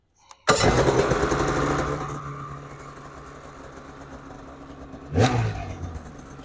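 The engine of a 2025 Polaris Patriot 9R INDY XCR snowmobile cranks and catches with a sudden roar, then settles into a rough steady idle before a second sharp rev rises and falls, heard up close with no talking.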